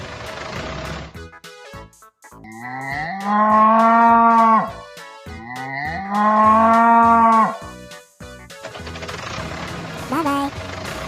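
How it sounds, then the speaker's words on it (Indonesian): A cartoon cow gives two long, loud moos, each lasting a couple of seconds, in a children's animated animal lesson, with a brief spoken word before and after the calls. "Cow. Sapi."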